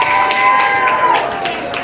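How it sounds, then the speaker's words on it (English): A live audience at a spoken-word poetry event in Chicago claps and cheers, a dense steady wash of applause close and loud throughout, with scattered whoops on top. "Give yourselves a round of applause for looking good"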